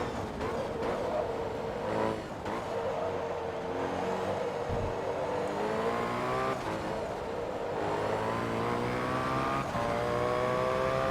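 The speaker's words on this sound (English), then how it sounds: "This car sounds really neat, by the way. I think this actually does sound like the regular R390" Nissan R390 race car in the Forza Motorsport 2 video game, its engine revving and climbing through gears in repeated rising sweeps, loud and continuous, with brief shifts and a hint of tire squeal.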